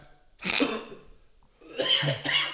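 Two bursts of coughing, close and fairly loud, the second a double cough, separated by a quiet pause.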